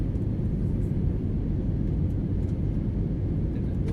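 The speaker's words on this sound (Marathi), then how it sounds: "हळूहळू विमान हैदराबाद एअरपोर्टच्या दिशेने जात आहे" Steady, broadband jet cabin roar fills an airliner descending toward Hyderabad airport on a flight from Bhubaneswar, a constant low rumble with no voices.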